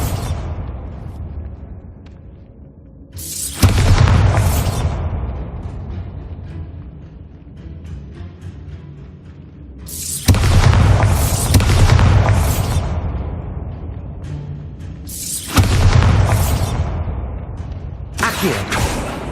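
Spell blasts from the Bombarda explosion charm in Hogwarts Legacy boom out three times at roughly six-second intervals, each a loud broadband burst with a rumbling low end and a long decaying tail.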